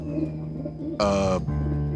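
Pigeons at a feeding spot give a short, throaty coo that stands out briefly over a steady background hum.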